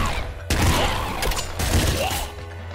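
Seeker shotgun fire in the video game Nuclear Throne: two dense, loud bursts of blasts and crackling impacts, each lasting about a second, with brief mechanical clatter between them and no talk.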